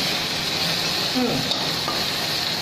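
Potatoes frying with salt and turmeric, a loud steady sizzle close by, with a brief utensil scrape and clink partway through.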